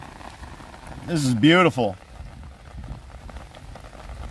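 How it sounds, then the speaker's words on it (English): Steady heavy rain falls on a flooding yard with a domed atrium drain grate, a continuous soft hiss throughout, briefly overlaid by a short spoken remark in the middle. "We have a steady rain,"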